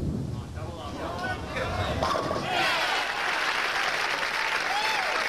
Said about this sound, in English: just applauding wildly, along with those that appreciate excellence.